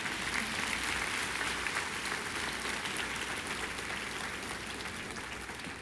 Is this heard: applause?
yes